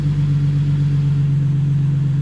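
A turbocharged BMW E46 engine idles after calming down, a loud, even low hum with a strong steady drone and no talking.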